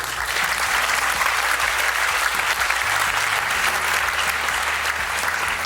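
Steady, loud applause from an audience at a Gujarat University event, dense clapping that continues without a break and is heard alone.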